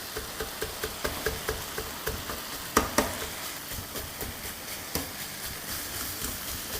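Chicken mince frying in a pan and being broken up with a utensil: steady, even taps and scrapes against the pan over a continuous sizzling hiss, with a couple of louder knocks.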